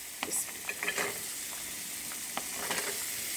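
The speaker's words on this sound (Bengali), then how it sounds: "মশলাটা কষানো হলে এখন আমি কাঁঠালের বিচিটা আগে দিয়ে দিব।" Jackfruit seeds hit a pan of cooked-down spice paste with dried fish and sizzle loudly. Sharp spatula scrapes and clatters come in two clusters over the continuous close frying hiss.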